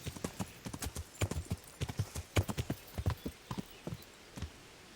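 Rhythmic clip-clop of horse hooves trotting steadily on a hard surface in Kingdom Come: Deliverance, clear and close, with no talking.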